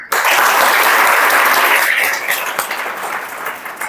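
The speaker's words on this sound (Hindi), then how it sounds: "एक बार तालियां हो जाए जोरदार" Loud, dense applause from an audience honoring families who installed water-tank overflow devices, bursting in at full strength and then gradually thinning and fading over several seconds.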